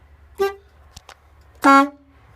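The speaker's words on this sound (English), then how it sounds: "I'm going to check my horns. I've got an air horn and a city horn." An air horn and a city horn tested: a short honk, a couple of faint clicks, then a longer, louder blare that cuts off sharply.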